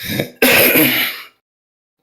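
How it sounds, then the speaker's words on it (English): A single harsh throat-clearing cough burst, close and loud, followed by silence. "I have bronchitis. I'm sorry, guys. I'm coughing here."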